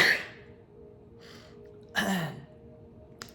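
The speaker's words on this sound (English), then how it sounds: "have to sneeze." A person sneezing, one sharp burst with an inhaled lead-in at the start and a second louder sneeze around the two-second mark, close and alone with quiet room tone between.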